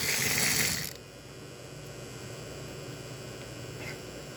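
Model locomotive motor idling on test rollers in a round house, a steady mechanical whirr and ratcheting hum after a brief louder burst at the start, with no talk.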